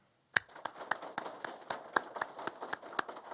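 Sparse, scattered clapping from a small group at a police academy graduation, individual crisp claps spaced evenly and heard fairly faintly, with no voices over them.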